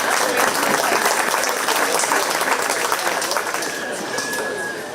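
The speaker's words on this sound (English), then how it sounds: "Let's give a great big round of applause right there." A crowd applauds loudly at a 4-H pie and muffin auction at the 2025 Shelby County Fair, with steady dense clapping that fades slightly toward the end.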